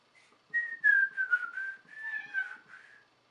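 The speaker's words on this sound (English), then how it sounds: "now I can whistle, see?" A person whistles a short wavering tune, a few sliding notes in a row, fairly close and clear with no talking.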